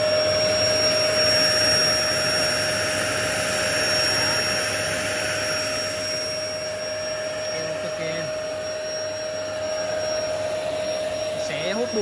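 A VAX MT5/MT6 household vacuum cleaner running on 220 V after its power button is pressed, giving a loud, steady, continuous whirring drone with a high tonal whine that lasts the whole time.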